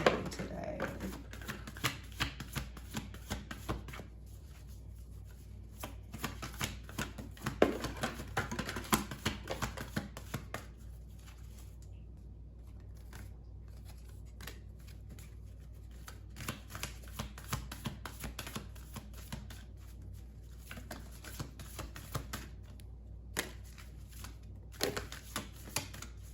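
Affirmation cards are shuffled by hand in a long run of rapid, papery riffles and flicks, close up and soft, pausing briefly now and then.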